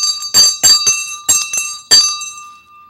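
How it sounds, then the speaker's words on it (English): A bell rung in remembrance at a Lions Club gathering, several sharp metallic strikes with a steady ringing tone sustained between them, close and loud with no talk. "I will ring the bell to honor the memory of Irving Weber at that convention as I ring it here now"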